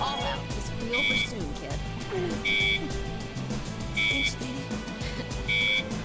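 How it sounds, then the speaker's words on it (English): Harsh electronic alarm beeps from the medical game Trauma Team, sounding in four evenly spaced double-tone bursts about every one and a half seconds over a busy game soundtrack, with a voice talking throughout. "I know people don't want to hear those horrible beeping noises."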